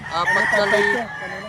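A rooster at a chicken market in Lipa, Batangas, crowing once up close and loud, its drawn-out harmonic call fading near the end of a brief moment.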